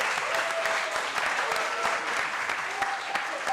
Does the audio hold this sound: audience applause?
yes